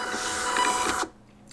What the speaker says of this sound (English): And just like that, it prints right out.